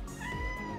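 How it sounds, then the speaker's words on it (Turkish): A pet cat gives a single drawn-out, faint meow, soft and tonal against a quiet room background. "Benim kedim Bızık da doğum gününü kutluyor."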